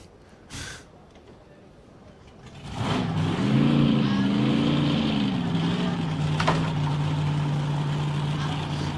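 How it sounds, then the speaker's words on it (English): A drag racing car engine at the Twilight Nationals qualifying fires up and settles into a loud, rough idle with a wavering throb, following a brief gasp-like noise earlier on. "Dave Thornton's got the car fired again."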